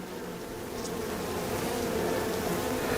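Bees buzzing in a small hive holding about five frames, a continuous droning hum that swells slightly over time, close and steady with no voices.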